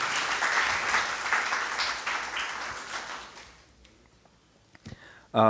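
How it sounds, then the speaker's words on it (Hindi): An audience at a talk with academy alumni applauds a speaker, dense clapping that gradually fades out over a few seconds, followed by brief quiet and a voice starting to speak. "तो मुझे लगता है कि इनके लिए एक और दफ़ा हम ज़रूर तालियां बजाएं।"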